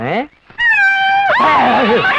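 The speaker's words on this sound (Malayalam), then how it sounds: "പൂച്ച." A cat meows loudly and drawn-out, a long wavering cry following a shorter one, close by.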